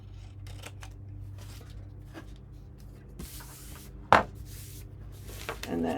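Scissors snip the corners off a sheet of paper for a notebook project, a few quiet crisp cuts close by with one louder sharp snip in the middle, amid faint rustling.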